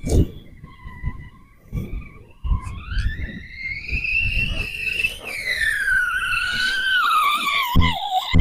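A small RC car skids and whines over rough rural ground, tyre scrub and rising motor pitch building into a loud, continuous squealing slide that holds steady near the end.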